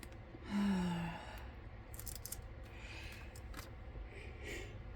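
A person yawns once: a short, breathy, drawn-out vocal sound that falls in pitch and is heard up close. Soft rustling and faint room noise follow.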